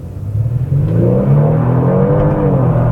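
The 3.3-litre twin-turbo V6 of a 2025 Genesis G70 accelerates hard from inside the cabin. The engine hum rises steadily into a loud, sustained, rising drone.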